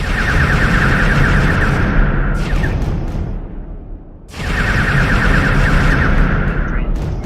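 Spaceship weapon in the StarMade game firing in a loud, continuous electronic blast that cuts out briefly mid-way before resuming just as strong, with no talking.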